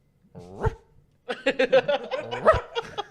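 A man imitates a dog with his voice: one short woofing yelp, a brief pause, then a quick run of rough barking yaps mixed with laughter, close and fairly loud.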